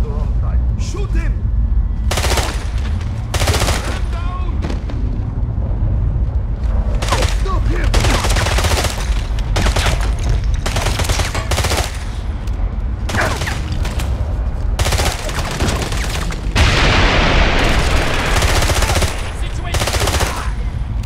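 Sustained automatic gunfire in a Siberia mission of James Bond 007: Blood Stone, with repeated loud bursts and single shots stuttering across a steady rumble of action.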